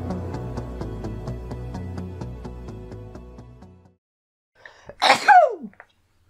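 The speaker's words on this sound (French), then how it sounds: "J'ai éternué" Music plays and fades out, then after a brief silence comes one loud, sharp human sneeze, close and alone.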